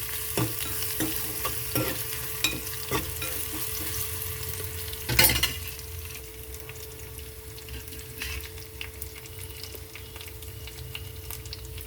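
Crushed garlic fries in a hot tempering for pachipulusu, a steady sizzle in the pan with scattered clicks and stirring scrapes, one louder clatter partway through, then a softer continuous frying hiss.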